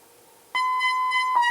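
A steady Eurorack synthesizer tone modulated by an LFO starts abruptly after a short quiet stretch, holding a bright, buzzy pitch with a slight pulsing wobble and a brief dip near the end.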